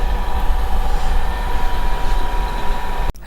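The Salem to Chennai Egmore superfast express, running on ICF coaches, rumbles steadily with low rolling noise and a faint hum, as heard from inside a 2-tier AC coach. A sudden thump near the end cuts the sound, and no one speaks.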